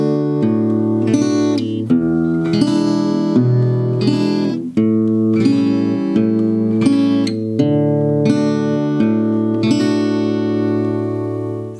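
An acoustic guitar plays the first verse line of a song with alternating bass, steady picked low notes swapping under strummed chords in a gentle, even rhythm, close-miked and unaccompanied by talk.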